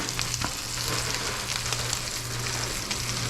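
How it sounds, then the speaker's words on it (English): A tomahawk steak sears in a hot pan, giving a dense, continuous close sizzle with a faint low hum beneath, fairly loud and steady, no voices. "The most important thing is just to get a little brownness searing those pores."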